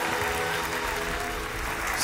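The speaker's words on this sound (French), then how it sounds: "Est-ce qu'on peut applaudir le Dieu de la bénédiction?" A church congregation applauds, a dense, steady wash of clapping from many hands filling the room throughout the short stretch.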